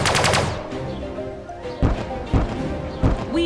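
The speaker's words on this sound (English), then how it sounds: "We have struck the enemy!" Weapons firing at the enemy in the space strategy video game Sunrider: a rapid burst of loud gunfire, then three heavy booming impacts spaced about a second apart over a faint game soundtrack.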